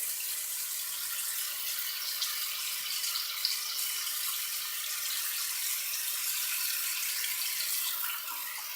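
Cool water runs steadily from a tap into a sink while someone rinses their face, a close, continuous hiss and splash with no talking.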